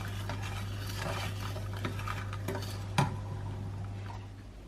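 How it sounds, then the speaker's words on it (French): Spoon stirring a chili and spice syrup in a pan, soft scraping and light clinks against the pan over a low steady hum, with one sharper knock partway through. "Oh, on remue."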